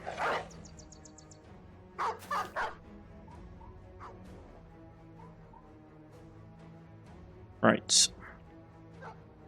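Dogs in the video game Battle Brothers bark in several short, sharp bursts over a low background of game noise, with someone briefly talking over them.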